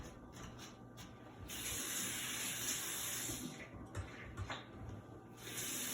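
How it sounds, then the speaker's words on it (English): Water runs from a tap while hands are washed before a cooking class, a steady broadband splashing that starts softer and swells to a fuller, continuous gush, with small breaks and shifts as hands move under the stream. "First, let's wash our hands."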